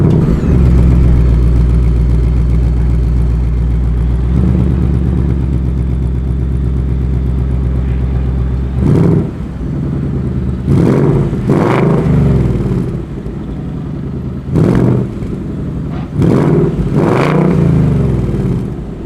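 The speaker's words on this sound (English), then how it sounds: "this model also has the optional performance exhaust, which sounds absolutely amazing" A 2020 Ford Mustang GT with the optional performance exhaust idles with a deep, loud burble, then gives a series of sharp revs: about five or six bursts climbing and falling with pauses between, close to the car and with no talking.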